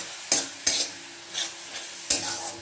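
Onions sautéed in a pan for an egg dish, a soft sizzle broken by about five sharp scraping stirs spaced irregularly, close and fairly quiet.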